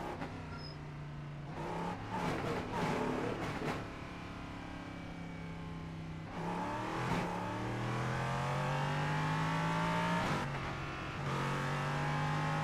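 Race car engine in a multiclass sim racing video game, revving hard and climbing through the gears with repeated upshifts, loud and steady throughout with no talking.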